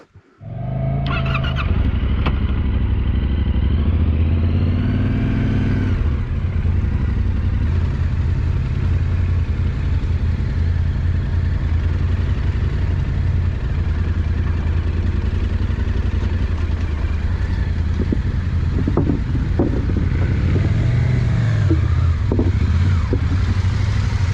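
A Yamaha Tenere 700 Explore motorcycle climbs an off-road hill, its engine loud and close, droning continuously throughout with slight rises and dips in pitch.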